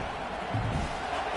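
A football stadium crowd at Ohio State vs Michigan roars in a steady, dense wash on a big third down, swelling slightly midway as fans get behind the defense.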